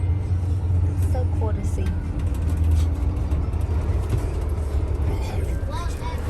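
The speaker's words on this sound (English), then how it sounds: "we just made it to the truck stop. Y'all see all the trucks" Low idling engine rumble and traffic noise around parked trucks at a truck stop, a steady drone with faint mechanical clanks while a person briefly speaks.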